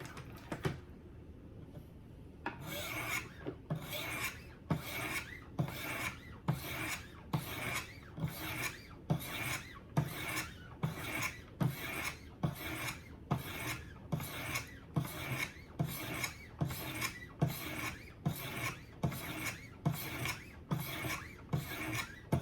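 A knife is drawn across the orange 200 grit stone of a Wicked Edge Go sharpener in a long even series of rasping strokes, about one per second, close and clear, with no speech.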